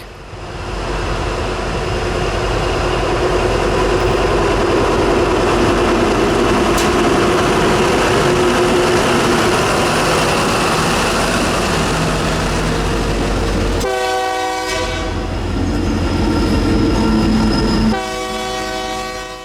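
A freight train led by a Cummins-engined SD90 locomotive roars by at close range near a creek bridge, with a steady heavy rumble, and a loud horn sounds in two blasts near the end.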